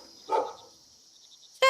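A dog gives one short bark in a quiet night scene of a Filipino aswang horror drama. A steady high insect-like whine runs underneath, and the next sound cuts in sharply at the end.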